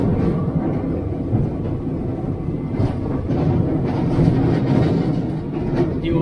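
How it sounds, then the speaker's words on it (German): A small, old, yellow tram rides noisily, heard up close from aboard as a loud continuous rattling and rumbling with faint clacking, without talk. "Die urinfarbige Straßenbahn macht Geräusche."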